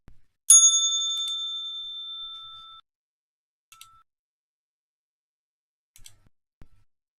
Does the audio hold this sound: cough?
no